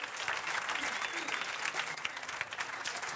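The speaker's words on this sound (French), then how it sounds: "ces deux équipes-là méritent une grande main d'applaudissements" An audience at an improv competition gives the two teams a sustained round of applause, a fairly distant, even crowd clapping with faint voices mixed in.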